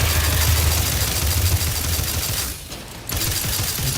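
Dense enemy gunfire in The Outer Worlds 2, a steady roar of rapid shots and a rumbling low layer that drops out briefly near the end before resuming.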